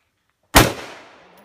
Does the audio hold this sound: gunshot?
yes